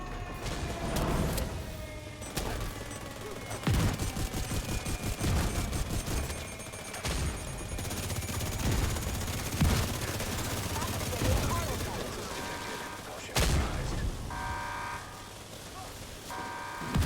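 Rapid automatic gunfire in The Division 2, with dense rattling bursts running almost without pause and a few heavier cracks. The shots are near and loud, and a voice speaks briefly under them.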